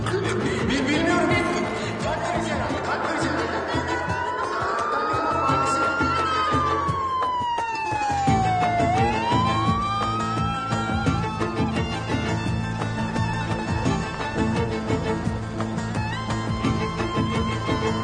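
An ambulance siren wails, rising and falling in slow sweeps over a loud, dense background of dramatic music and commotion.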